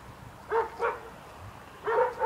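Guard dogs keeping watch over businesses at the edge of a tree-lined cemetery near the east port on Réunion, with a few short distant barks in a quick pair, a pause, then more barking.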